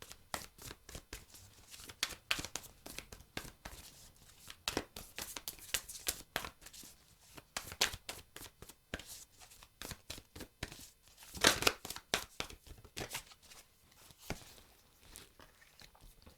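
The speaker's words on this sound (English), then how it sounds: "We're going to keep shuffling though." Rapid papery riffling and crinkling of tarot cards being shuffled, a steady stream of soft flicks and rustles close up, no talking.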